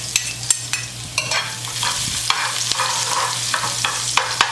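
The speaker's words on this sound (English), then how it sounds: "We're going to take our half a head of garlic and add it to our oil." Half a head of garlic sizzling in hot oil, a steady crackling fry broken by repeated sharp clicks of a utensil stirring the pan.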